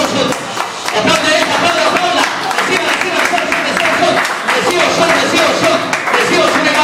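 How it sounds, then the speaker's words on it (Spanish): A church congregation claps continuously during a baptism service, a steady, energetic roar of hands, while a preacher speaks loudly in Spanish over the applause. "Siga aplaudiendo, iglesia."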